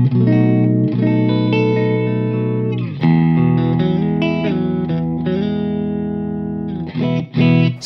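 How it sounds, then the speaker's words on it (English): Distorted electric guitar on the bridge pickup, a dirty overdriven tone ringing out in sustained chords that change every second or two, then short choppy stabs near the end, loud and alone. "take note of this tone right now with the dirty tone and the bridge pickup"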